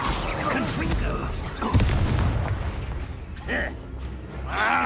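A Confringo explosive spell in Hogwarts Legacy bursts with a heavy boom and crackling blast, followed by scattered impacts and lighter pops as spoken lines carry over the fight.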